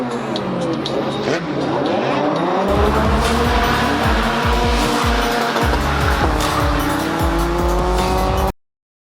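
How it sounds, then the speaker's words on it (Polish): Several Volkswagen Golf cars race past at a car meet, engines revving hard and rising in pitch, tires squealing between loud, close engine roars. "Zobaczmy wyścig golfików teraz"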